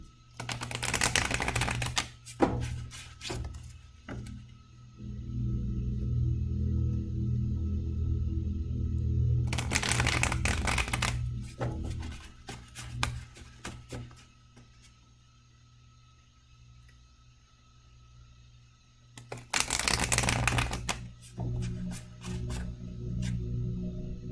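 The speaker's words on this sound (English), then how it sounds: "I am going to start to shuffle." Tarot cards being shuffled in bursts of dense crisp riffling and flicking, close and fairly loud, separated by quieter stretches with a low background hum.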